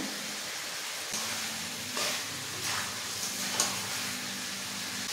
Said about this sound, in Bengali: আরও কিছুক্ষণ কষিয়ে নেব।